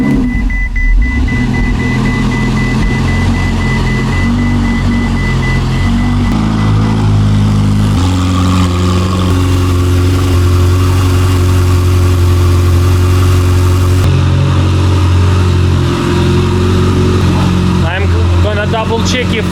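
A Ferrari 488 engine runs during a rebuild with its cooling system being bled, a steady low idle droning throughout with shifts in pitch and some workshop clatter; no clear start, but continuous running sound.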